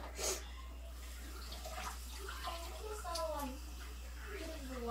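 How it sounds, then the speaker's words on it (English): Water is poured into a cooking dish for a homemade freezer meal, with a brief splash followed by soft trickling. An adult and someone talk over it, and a steady low hum sits underneath. "I'm gonna add a little water to this."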